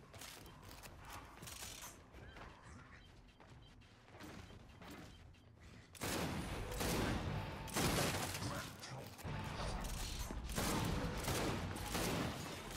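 Gears 5 shooter-game gunfire from a bolt hog, with dense mechanical clattering and rattling bursts that grow louder and more intense partway through, continuing steadily with brief gaps.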